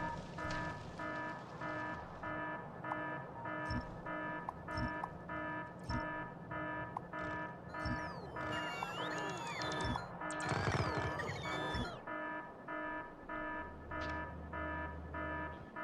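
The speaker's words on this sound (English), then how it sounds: "Why is that alarm not switching off?" Persistent electronic alarm in a factory-building video game, beeping in a steady repeating pattern throughout, with clanking and crashing game noises layered over it partway through and no talking.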